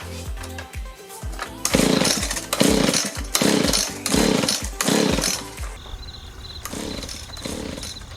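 A two-stroke gas leaf blower of the Echo, Stihl or Husqvarna type, with choke on, is pull-started repeatedly: a series of loud, rough, roaring cranking bursts that sputter and die, then a weaker, uneven running attempt.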